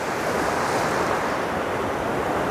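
Sea waves churn and roll steadily onto the beach at Anapa on the Black Sea, a loud, continuous broadband wash with no pauses, carrying wind noise over the microphone.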